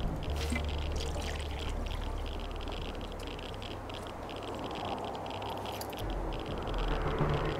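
Water being collected at a desert oasis in the video game Wasteland 2, a continuous trickling, pouring wash over a low hum, moderately quiet and swelling slightly at the end, with no speech.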